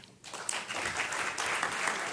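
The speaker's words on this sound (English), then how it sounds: "please give a round of applause to our speaker" Audience applause at a National Press Club luncheon, a dense sustained clapping from a large crowd that begins abruptly after a brief quiet moment and holds steady to the end.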